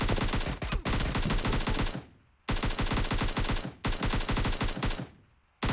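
Bursts of automatic gunfire in the mobile shooter PUBG Mobile Lite, loud and close, in three sustained volleys separated by brief gaps with decaying echoes.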